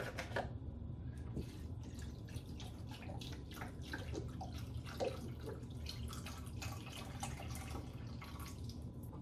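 Vegetable stock, about one and a half cups, pours into a soup pot of Thanksgiving leftover vegetables, a soft continuous splashing and trickling with scattered drips, fairly quiet and steady throughout.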